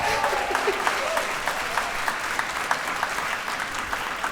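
Audience at a business recruiting talk applauding and cheering, a dense steady patter of many hands with scattered sharp claps, sustained at moderate loudness.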